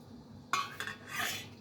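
Utensils clink against a pan as black pepper goes into the cooking, a sudden metallic clatter followed by a short scrape and a softer rub, close and brief.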